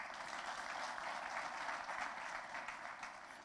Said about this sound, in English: I want you to clap for President Museveni for one thing, for the democracy that is exercising in the party.